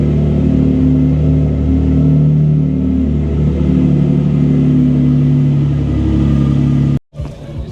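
Boosted Nissan 350z engine on a cold start, a loud, steady low idle rumble with a droning hum that holds for several seconds before cutting abruptly near the end.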